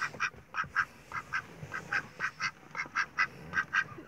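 A duck quacking repeatedly in short, rhythmic bursts, fairly close and clear, with no voices.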